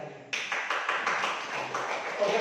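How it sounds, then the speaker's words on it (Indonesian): Students in a classroom applaud, starting abruptly and holding a dense, even stretch of clapping close by that lasts to the end. "Pak Guru berikan tepuk tangan dulu untuk pekerjaan kalian."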